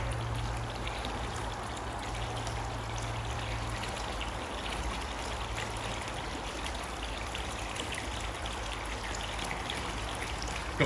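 Water pours steadily from the outlet of an Evolution Aqua pond pump running at its lowest setting, a continuous splashing rush close by with no speech over it.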